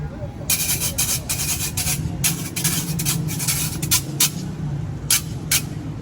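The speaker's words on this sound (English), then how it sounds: "Let's listen how the guira sounds along" A metal guira scraper rasps in quick, rhythmic strokes, bright and scratchy, repeating steadily over a low background rumble and murmur, in Puerto Plata, Dominican Republic.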